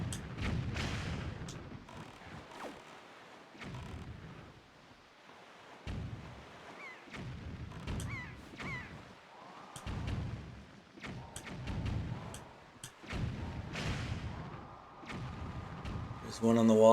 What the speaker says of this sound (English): you just gotta shoot down each of these cannons here.